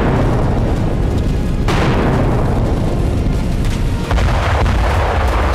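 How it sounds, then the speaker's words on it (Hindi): Bombs exploding in Khan Younis, Gaza, during the Israel-Palestine war: two heavy booming blasts with long rumbling tails sit over a constant loud roar, with no voices. "खान यूनिस में हर दिन बम बरस रहे हैं"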